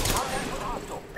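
Apex Legends gunshots crack in a short burst of a few rapid shots, fairly loud, with a player's voice talking over the firing.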